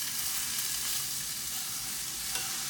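Hamburger meat and onions frying in a pan, a steady, even sizzle with soft crackle throughout, close and moderately quiet with no voices.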